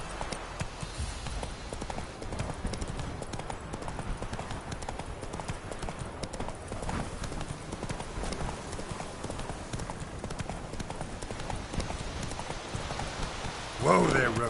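Roach the horse's hooves clopping steadily in The Witcher 3, a continuous rhythmic trot under rain-like ambience with a voice speaking briefly near the end.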